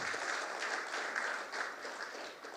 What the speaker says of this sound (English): let's give him a very warm round of applause for that.